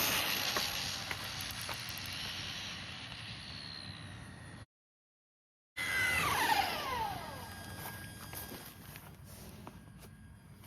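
A Traxxas Bandit RC car on six 2S shorty LiPo packs runs at full throttle, a steady, loud electric whine that cuts out briefly, then returns with a rising and falling pitch as it speeds past outdoors.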